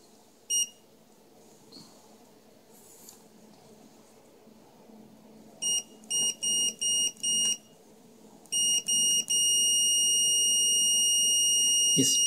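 Fluke 101 multimeter in continuity test mode, giving a series of sharp high electronic beeps: one short, then four quick pulses, two more, and finally a long continuous tone, over quiet room noise.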